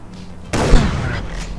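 A single loud, close gunshot rings out while boars are being hunted in the video game Far Cry 3, a sharp blast followed by a short rumbling echo.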